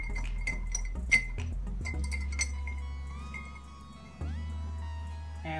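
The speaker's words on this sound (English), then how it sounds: "And you give it a nice stir." Several quick glassy clinks at the start as a spoon stirs iced tea in a glass, the tinkling fading into a quieter hum after a couple of seconds.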